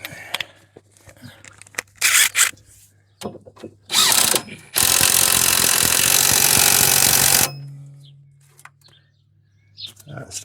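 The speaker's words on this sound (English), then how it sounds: "that's the track rod end tightened up." Power tool or ratchet tightening a track rod end on a Peugeot J5 motorhome's front suspension, heard as short mechanical bursts and then one loud sustained whirring run of about three seconds, with quiet pauses between.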